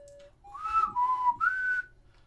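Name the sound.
whistling in video game Hyrule Warriors: Age of Calamity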